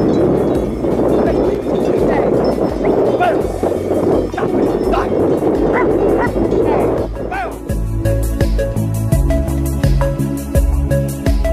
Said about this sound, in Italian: vanno ad abbeverarsi le mucche, vengono guidate da tre cani maremmani abruzzesi